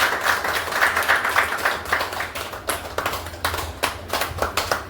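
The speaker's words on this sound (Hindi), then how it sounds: "उनका जोरदार तालियों से स्वागत कीजिए।" An indoor audience at a company weekly meeting claps to welcome a speaker, dense rapid hand clapping that swells and thins over several seconds, close and fairly loud.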